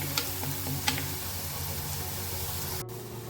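Crushed spices for a pepper fish curry fry in a pan with a steady low sizzle, broken by a few faint clicks of stirring and a brief sharp scrape near the end.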